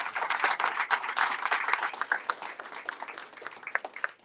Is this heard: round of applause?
yes